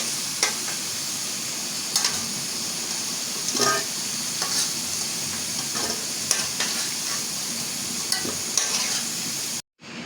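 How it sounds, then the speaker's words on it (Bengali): Potato pieces frying in hot oil, a dense continuous sizzle with occasional scraping stirs, close and loud until it cuts off briefly near the end. "এইভাবে করে লাল লাল করে ভাজিয়ে নেবো"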